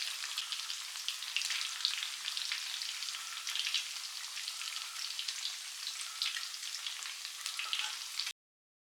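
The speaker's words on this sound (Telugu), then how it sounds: "ఒక 10 నిమిషాలైనా పడుతుంది ఈ చికెన్ మంచిగా ఫ్రై అవ్వడానికి." Chicken 65 pieces frying in hot oil make a continuous bright crackling sizzle, steady and close with dense popping spatters, until the sound cuts off abruptly near the end.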